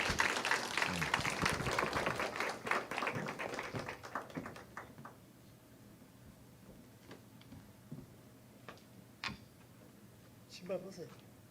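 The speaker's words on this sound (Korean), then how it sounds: "우리 큰 박수로 선교사님 환영해 주시면 감사하겠습니다" Church congregation clapping to welcome a missionary at a Sunday morning worship service, a loud burst of applause that fades over several seconds, followed by scattered faint claps and taps in a quieter room.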